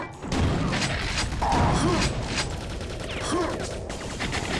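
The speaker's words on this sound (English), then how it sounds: "They're shooting at me." Enemies firing guns in Quake 2, loud rapid bursts of shots and mechanical clatter running continuously, with a few brief grunts and effects mixed in.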